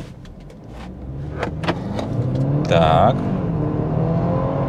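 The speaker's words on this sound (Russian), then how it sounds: "Я просто отпускаю тормоз и резко жму на газ" A BMW 320i xDrive G20 with a Stage 1 tune launches hard from a standstill in comfort mode, its engine note climbing steadily and growing louder close by, with a brief spoken word near the start.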